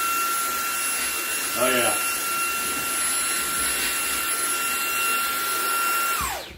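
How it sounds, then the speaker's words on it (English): A eufy cordless vacuum cleaner whines steadily at high speed, peanut M&Ms rattling briefly through it early on, before the motor winds down at the end; a person makes a short remark. "So that is the eufy vacuum cleaner versus peanut M&Ms."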